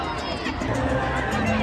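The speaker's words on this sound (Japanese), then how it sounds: "どの辺が映ってるか分かるぐらい歓声が聞こえる" Dense crowd noise at Fenway Park before a baseball game, a continuous roar of cheering and chatter from many fans in the stands, steady and moderately loud with voices mixed in.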